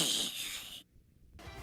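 Kazuya from Smash Ultimate snoring while asleep: a rough, breathy snort-like inhale, then a near-silent pause, and another raspy breath beginning, close and fairly quiet.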